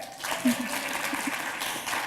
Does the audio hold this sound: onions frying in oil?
no